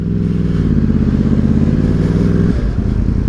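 A 125cc moped passes close by, its engine a loud, steady buzzing drone that shifts in pitch as it goes past, with wind and road noise underneath.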